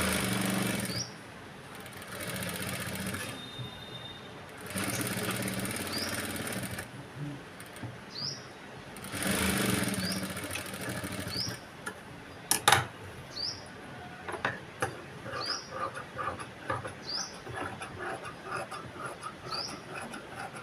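A sewing machine stitching a boat neck blouse, running in several bursts of steady whirring a few seconds each, separated by pauses with small clicks and handling noises, close up and without speech.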